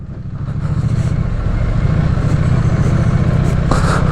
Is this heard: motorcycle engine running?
yes